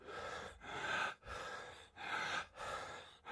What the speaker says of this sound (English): that's breathing